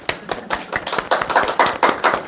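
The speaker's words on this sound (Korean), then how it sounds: "박수." A lecture audience claps briefly, a short run of distinct, fairly close hand claps at an irregular, quickening rhythm, heard alone without talk.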